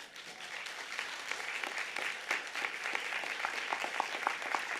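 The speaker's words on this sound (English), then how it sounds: "give them a rousing round of applause because they too have earned it" Graduates at a university business school graduation ceremony applaud their families, moderately loud clapping that builds and stays steady, heard from a slight distance in a large hall.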